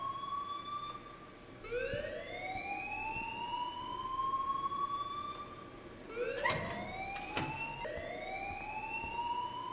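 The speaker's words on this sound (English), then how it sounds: "please turn off that alarm since that's your job" An alarm in Life Is Strange wails in repeated rising sweeps, a siren-like tone climbing again and again over about ten seconds, loud and persistent with sharp bursts of noise near the middle.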